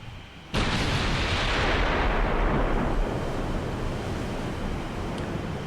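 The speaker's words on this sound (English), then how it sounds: "we are ready for another salvo." A battleship's gun salvo booms out in Ultimate Admiral Dreadnoughts: one sudden, loud broadband blast, then a long, rumbling roll that fades slowly under sea and wind noise.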